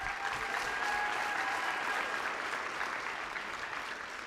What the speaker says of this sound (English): So again, round of applause for David.